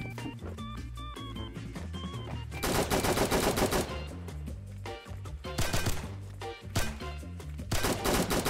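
Rapid bursts of gunfire from the survival shooter Fallen Survival, loud and close, with dense automatic volleys between single shots and a steady music-like tonal bed underneath.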